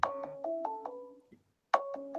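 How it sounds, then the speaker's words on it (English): A phone ringtone plays a short melodic chime pattern of stepped tones, repeating after a brief pause, loud and alone with no talk. "Don Haynes is ringing me"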